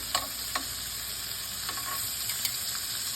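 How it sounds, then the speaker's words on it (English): Shrimp sear in a hot oiled pan with a steady, close sizzle, broken by a few soft clicks and scrapes. "I'm letting it go ahead and sear on one side"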